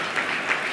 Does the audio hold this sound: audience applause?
yes